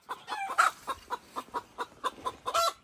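A hen clucks repeatedly after laying eggs in a rocky hollow, a steady series of sharp, evenly spaced cackles, fairly close and prominent, rising into a louder call at the end.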